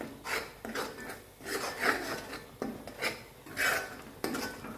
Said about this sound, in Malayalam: നമുക്കിതൊന്ന് ഇളക്കി കൊടുക്കണം അടി കരിഞ്ഞ് പോവാതെ ശ്രദ്ധിക്കണം